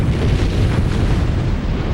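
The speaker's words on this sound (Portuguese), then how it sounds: "Quando a arma é detonada" An atomic bomb detonation, as in the Hiroshima bombing, produces a deep, loud, sustained roaring rumble that fills the whole span without letting up, with no voices over it.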